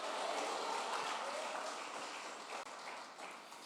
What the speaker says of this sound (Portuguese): dê as palmas para o Senhor